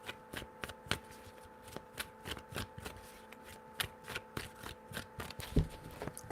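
Tarot cards being shuffled by hand, a run of quick, crisp riffling slaps in a steady rhythm, close and fairly quiet with no voices, ending in a sharper tap.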